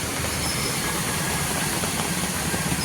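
A motorcycle engine runs steadily after water got into it on a flooded monsoon road, a close, continuous rumble with broadband noise.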